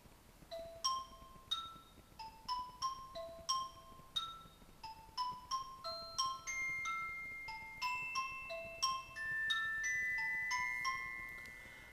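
A composition with an augmented glockenspiel part played together with a second part, bright struck metallic notes in a steady, overlapping melodic sequence. Later notes sustain and ring longer, with no talking.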